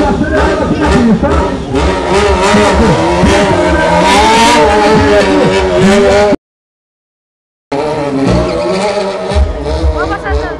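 A Honda motorcycle accelerates hard on a track, its loud close engine rising and falling through revs, briefly cutting out before roaring again, with people talking over it.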